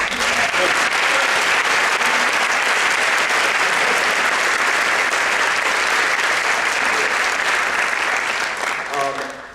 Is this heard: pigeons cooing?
no